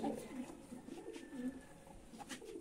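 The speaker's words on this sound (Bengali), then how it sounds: "এ হচ্ছে মাদি কবুতরটা" Female pigeon cooing softly and repeatedly from a loft, the low throaty coos rather faint against a busy background.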